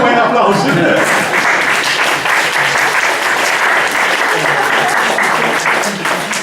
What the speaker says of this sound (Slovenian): dajte mu en aplavz